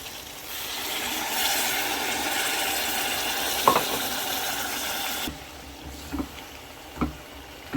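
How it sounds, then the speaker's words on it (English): Okra (bindi) cooks in a pan after a splash of water is added for a lentil curry, giving a loud, steady sizzle and stir that drops to a softer simmer, with a few utensil clicks near the end. "I'm going to add a bit of water and then let the bindi cook before adding my lentils."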